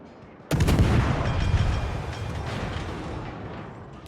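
A heavy naval gun salvo booms from a warship in a naval battle game with the ship Kiev, one loud sudden blast whose deep rumble rolls on and slowly fades over several seconds.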